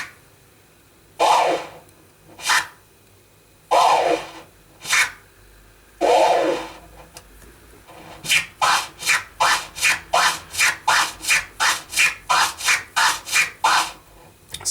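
DJ chirp scratches on a turntable record worked with the crossfader: a few slow separated strokes, then a fast even run of about a dozen short clipped chirps, close and loud with no talking.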